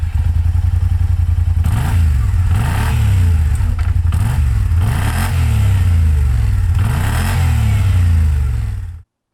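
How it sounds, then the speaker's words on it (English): A Kymco flagship maxi-scooter's crossplane-crank engine revs repeatedly through its exhaust, loud and close, rising and falling in several bursts before cutting off abruptly. "it does have a MotoGP style crossplane crank, which sounds fantastic out the exhaust"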